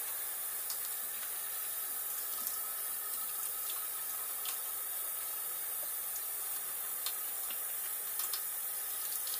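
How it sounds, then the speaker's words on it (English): Water running into a small sensory bottle makes a steady, faint hiss with light trickling and occasional soft splashes throughout, and nobody speaks. "you add some water"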